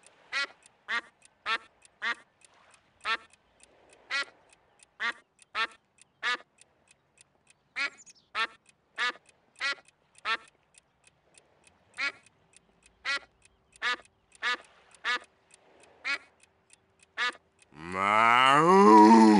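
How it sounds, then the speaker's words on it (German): A cartoon duck in the Escape from Monkey Island video game quacks in a long string of short, evenly spaced, nasal calls, ending in a brief, louder warbling cry. "Was für eine abgedrehte Ente bist du denn?"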